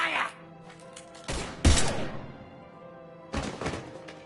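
Gunfire in the Mass Effect 3 video game. A few sharp, loud shot-like thunks and blasts stand out against a background of game ambience.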